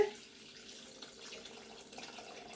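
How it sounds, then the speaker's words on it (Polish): Water pours steadily into a Thermomix food processor with a soft, continuous splashing hiss, fairly quiet and without any talking. "wlewamy 900 ml, czyli gramów wody"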